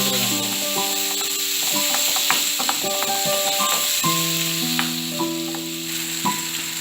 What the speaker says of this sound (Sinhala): මේ තක්කාලි ටිකත් විනාඩි 5-6ක් විතර කාලයක් හොඳට ටෙම්පරාදු කරගන්නවා.